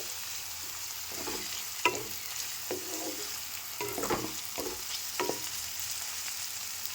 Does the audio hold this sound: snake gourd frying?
yes